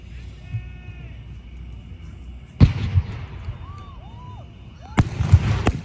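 All-star firework shells are launched at a pyrotechnics competition: two sharp, booming thumps ring out over a steady outdoor crowd murmur, with whistling rising tones and faint voices in between.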